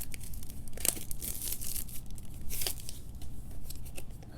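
Cardboard packaging for a Victorinox SwissTool Spirit X multitool being opened, close rustling and tearing with a few sharp rips and crinkles against quiet room noise, and no talking.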